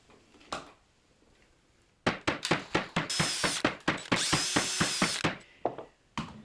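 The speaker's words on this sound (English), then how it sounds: "would you please bring out your drill?" A power drill whirs in repeated short bursts, then runs longer high-pitched spins, loud and close, with rhythmic ratcheting pulses.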